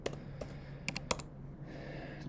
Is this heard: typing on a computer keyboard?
yes